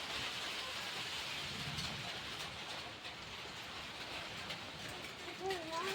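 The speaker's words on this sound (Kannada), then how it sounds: "ನೋಡ್ರಿ ಮಳಿ ಹೆಂಗೆ ಹೊಂಟ ಎಂತೆಂಥ ನೀರು ಬೀಳ್ಲಾಗತ್ತ ಎಂತೆಂಥ ಹನಿ ಕಡ್ಲಿಕತ್ತ ಈಗ" Heavy rain pouring down as a dense, steady hiss and roar that stays even throughout, fairly distant and moderate in level.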